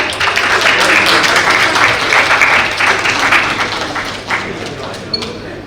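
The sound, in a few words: audience applause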